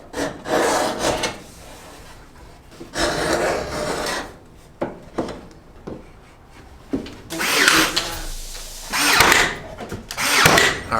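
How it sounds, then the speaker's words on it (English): Wooden fireplace trim pieces being cut in a home renovation, rough rasping saw strokes in several bursts with pauses between, close and fairly loud, no talk. "And now we cut."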